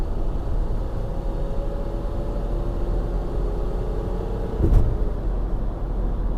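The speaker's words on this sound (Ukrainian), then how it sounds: "я натискаю газ і в нас пішла" A Mercedes Viano 3.0 V6 engine pulls uphill under throttle, a steady low drone heard from inside the cabin with a slowly rising tone and a brief thump near the end.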